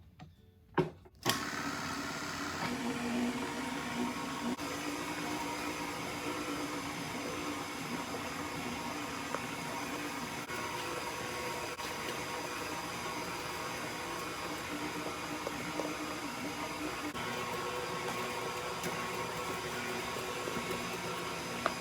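An electric mixer whirs steadily and continuously while dry ingredients are added a little at a time to old-fashioned Southern tea cake batter, after a few brief clicks and knocks at the start.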